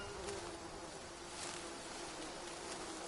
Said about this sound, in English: It sounds like the bees are back, so we might be able to get some free honey.